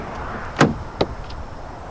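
Car door on a 2019 Chevy Equinox: a sharp latch clunk, then a second shorter click a moment later, up close with no voices.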